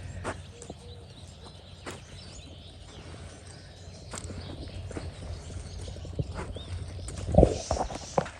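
A lanky Tennessee Walking Horse walking during a riding lesson, soft hoof clip-clops at a steady gait, moderately distant under outdoor ambience with birds and insects, and a louder thump near the end.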